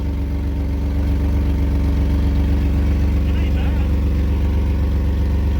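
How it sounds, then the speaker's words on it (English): A 2003 Chevrolet S10 extended cab with the 4.3 engine idles with an exhaust leak, giving a steady low, ticking rumble that stays close and even throughout. "Oh, it's got a nice exhaust leak."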